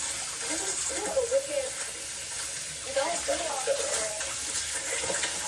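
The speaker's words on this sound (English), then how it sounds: "all this water dripping" Water running steadily from a tap with a broad hiss, moderately near, while a voice speaks faintly in the background at moments.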